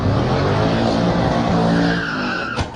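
Rear tires of a car, apparently a Hellcat, break loose and skid with a loud, continuous screech over a roaring engine, the squeal rising and then ending in a sharp thump near the end.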